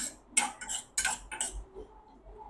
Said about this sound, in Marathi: आता खोबरं भाजून घ्यायचं